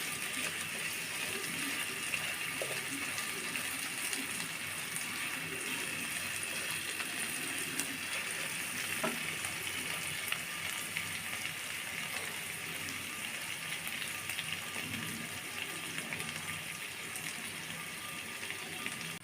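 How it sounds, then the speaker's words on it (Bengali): Onions fry in a pan for a taki fish bhorta, giving a faint, continuous sizzling hiss that holds steady throughout with no speech. "দেখুন বন্ধুরা পেঁয়াজগুলো আমার লাল লাল করে ভাজা হয়ে গেছে"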